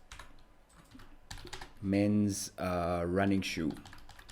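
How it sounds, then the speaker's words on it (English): A burst of light keyboard clicks comes from a computer keyboard as a search is typed, then someone speaks over the tail end. "Okay, I'm on Google and I'm going to type in"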